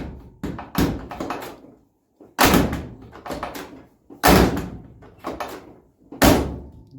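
A square-body Chevy truck door is slammed hard four times in succession, each loud metallic thunk followed by lighter rattling taps, inside a workshop during door striker repair.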